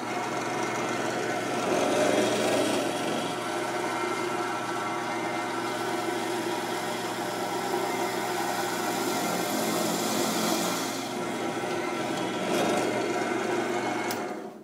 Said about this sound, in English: we're drilling for the post setting